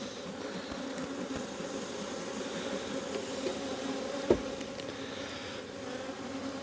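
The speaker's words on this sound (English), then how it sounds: "lots of bees in here" Honey bees swarm and buzz in a steady, dense drone from an opened hive, close and continuous, with one brief sharp knock partway through.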